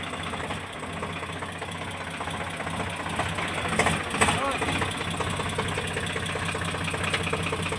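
A tractor engine runs steadily with a continuous knocking idle rumble throughout, with people talking over it outdoors.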